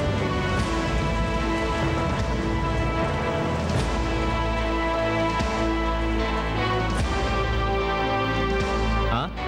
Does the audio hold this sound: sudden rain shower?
yes